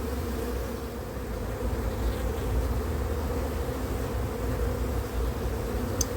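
Dense, steady buzzing of many honeybees in an opened beehive, close and continuous throughout with no pauses.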